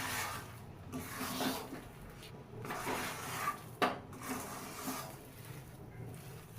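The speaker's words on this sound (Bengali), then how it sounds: "বাদ বাকি চালটাও আমি দিয়ে দেবো, আবারও ঠিক একভাবে মেশাতে থাকবো।" Rice is stirred in a pan while cooking. Soft, continuous scraping and rubbing of a utensil against the pan comes in gentle uneven strokes, quiet and close, with an occasional light knock.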